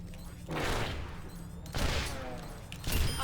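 Bursts of gunfire from the video game Overwatch come in three dense volleys, loud and close, with a voice partly mixed in.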